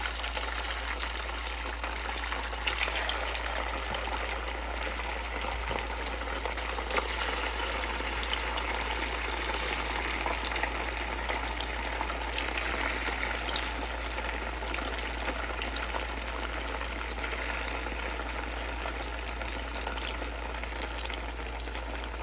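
Poha medu vada (avalakki mosaru vade) deep-frying in hot oil, giving a steady, close sizzle and crackle that holds level throughout with no talking over it and a low hum running beneath.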